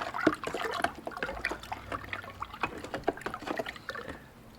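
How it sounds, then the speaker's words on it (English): Liquid sloshing and swirling as it is vigorously stirred in a copper refining cell, close irregular splashes and gurgles with a rhythmic churning pace that quiets at the end. "I'll give it a really good stir here."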